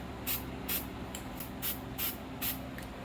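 Spray paint can releasing soft white paint in a space-themed spray art session, a series of short, sharp hissing bursts, about seven in quick irregular succession.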